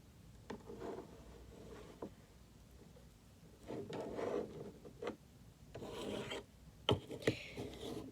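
Tarot cards being mixed by hand, a quiet papery riffling and rubbing in short bursts with soft taps, close and low in level.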